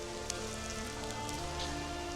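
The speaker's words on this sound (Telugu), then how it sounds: "ఓహ్, ఇక్కడ వర్షం పడుతుంది" Steady rain falling nearby at the Batu Caves temple in Malaysia, a dense continuous patter of drops on hard surfaces with no voices.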